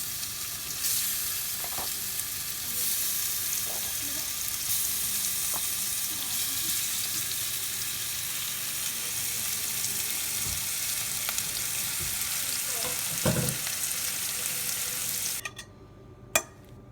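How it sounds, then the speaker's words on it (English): Fish frying in a hot pan for a taco recipe, a steady broadband sizzle running close and loud for most of the stretch, with a few faint clinks and a brief thump before it cuts off near the end. "we're going to place now the fish in the pan and just let it fry for a few minutes"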